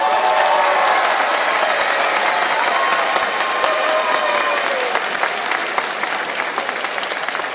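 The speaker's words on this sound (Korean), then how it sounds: "다시 한번 군악의장 대원들에게 뜨거운 박수를 보내주시기 바랍니다." Sustained applause from a large crowd for military band and honor guard performers at a festival closing ceremony, loud and steady throughout, with dense overlapping claps and no talking.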